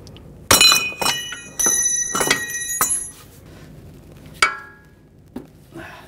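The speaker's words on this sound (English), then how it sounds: "And hold the pliers while you loosen it up." Metal tools clink and ring sharply as an inner tie rod is loosened on a 2004-2009 Audi A4 Quattro with an adapter and pliers, several separate loud metallic strikes and scrapes with quiet gaps between them.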